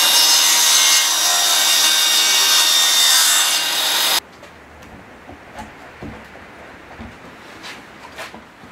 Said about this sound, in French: je vais faire mes deux coupes de chaque côté pour aligner donc sur la même longueur